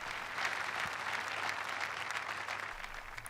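Church congregation applauding, a steady wash of dense clapping from a large audience that holds even for several seconds, with a low hum beneath and no speech.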